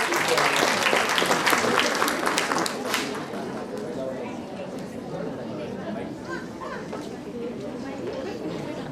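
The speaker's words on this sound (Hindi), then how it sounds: "जोरदार तालियों से इसका इस्तकबाल कीजिए" An audience at an inter-school Urdu mushaira applauds loudly for about three seconds to welcome a student performer, then settles into crowd chatter and murmuring.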